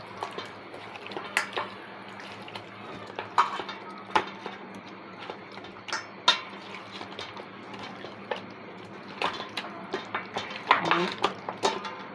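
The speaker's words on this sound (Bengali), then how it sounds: "মশলাগুলো ভালোভাবে মাংসর সাথে মিশিয়ে নিচ্ছি, মুরগির সাথে," Spices are worked into raw chicken pieces in a bowl for a chicken roast, giving quiet, scattered clinks and light knocks against the bowl with soft wet shuffling in between.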